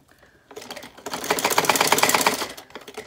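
A sewing machine runs a quick burst of dense, rapid stitching along a legging seam. It starts softly, speeds up into a steady loud whir and then eases off near the end.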